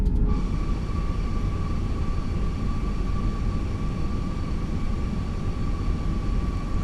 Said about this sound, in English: There's the departing Lufthansa.